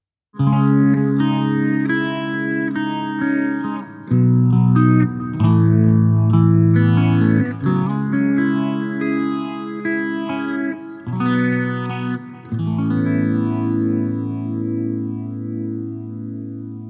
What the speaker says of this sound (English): So this is one of my favorite ways to use phaser, in a subtle sort of atmospheric, just adding a little bit of movement to the sound.